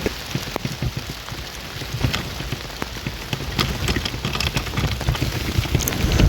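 Steady rain falls close by, a dense hiss of drops spattering on hard surfaces with scattered sharper taps, growing slightly heavier toward the end.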